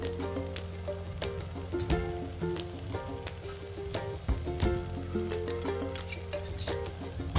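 Masala sizzles and crackles in hot oil in a pan for a restaurant-style spicy chicken curry, a steady close frying hiss with irregular pops and spatters and no talking.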